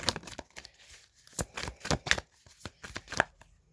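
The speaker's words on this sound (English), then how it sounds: "Let me pull the other cards." Tarot cards being shuffled and pulled from a deck, a series of crisp papery snaps and flicks in an uneven rhythm, close and fairly quiet, with no talking.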